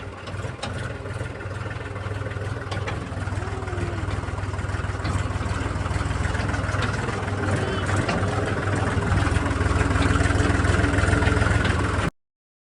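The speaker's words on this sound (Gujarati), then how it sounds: "આપણે ટ્રેક્ટર કાઢીને નીકળી ગયા છે બીજે વાડીએ ટાંકો લેવા માટે" A farm tractor heads out on a village lane, its engine running steadily and loud from start to finish, a continuous low rumble with no pauses until it cuts off abruptly at the end.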